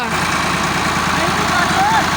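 A tractor hauling a 200-maund load and stuck on a climb, its engine rumbling in a steady low drone under strain, close and continuous throughout.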